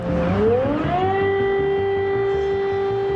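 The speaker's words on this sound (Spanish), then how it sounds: "Incluso en la capital Kiev se encendieron las sirenas ante el inminente ataque ruso." Air raid sirens in Kyiv sound ahead of an imminent Russian attack, one rising wail that climbs over about a second into a loud, steady sustained tone with a low rumbling background and no voices.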